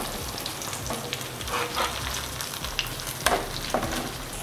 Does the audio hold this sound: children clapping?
no